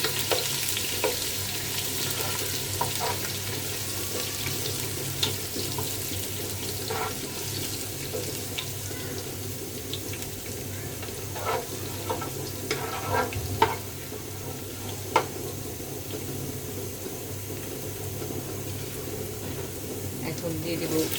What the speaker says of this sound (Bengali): শুকনো মরিচটা লাল করে ভেজে নিচ্ছি। এখন দিয়ে দিব রসুন কুচি, তারপরে দিয়ে দিব আদা কুচি।